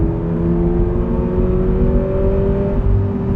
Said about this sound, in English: when you actually get to open up the car and, downshift a little bit, you're met with a lot of fake engine noise